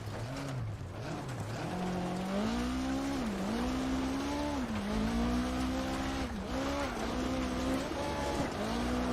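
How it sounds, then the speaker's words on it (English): Clutch-kicked car engine in a racing video game, revving up and down in repeated surges, the pitch dipping and climbing several times, loud and close with tyre noise underneath. "So that's as simple as kicking the clutch"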